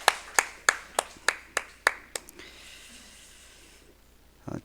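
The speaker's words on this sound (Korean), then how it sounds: "우리 찬양을 받아주신 하나님께 영광의 박수를 올려드립시다" Inside a church, a congregation claps in about eight sharp, evenly spaced beats that end in a final pair of claps, then a soft reverberant hush follows.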